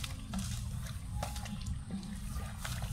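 Irrigation water flows with a steady, low, rushing hiss and a few faint splashes, quiet and constant throughout.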